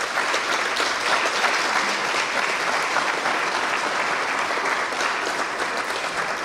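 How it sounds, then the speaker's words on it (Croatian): An audience at an award ceremony applauds artist and ecologist Gordana Špoljar-Andrašić, a steady, even wash of many hands clapping that holds at full volume throughout. "Pozdravimo pljeskom umjetnicu i u duši zaštitnicu prirode, ekologinju Gordanu Špoljar-Andrašić"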